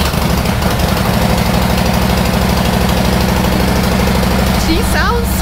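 A 2024 Harley-Davidson bagger motorcycle engine idles nearby with a loud, steady low rumble and a throbbing pulse, and a brief voice comes in near the end.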